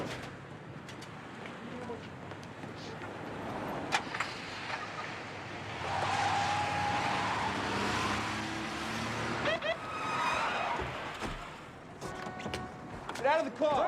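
A car starts up and pulls away at moderate distance, the engine rising and fading over several seconds amid street background, with birds and faint voices around it.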